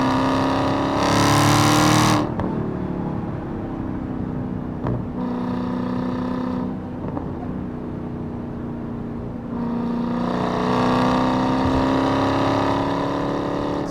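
A 797-horsepower Hellcat Redeye accelerates hard in repeated bursts, its engine roaring loudly up through the revs, easing off to a lower drone between pulls, then surging again near the end, heard from inside the car.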